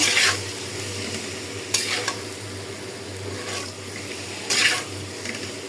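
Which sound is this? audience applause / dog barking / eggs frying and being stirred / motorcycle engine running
eggs frying and being stirred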